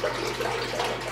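A gallon of milk pours into a pot for homemade mozzarella, making a steady, close gurgling splash that runs continuously with no talk over it.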